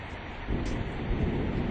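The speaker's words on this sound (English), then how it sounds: "It is raining." Rain pours in a steady broadband hiss while thunder rumbles low underneath, growing louder about halfway through and holding a heavy, continuous roll to the end.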